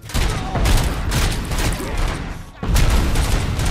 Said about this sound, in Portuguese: Ai, granada!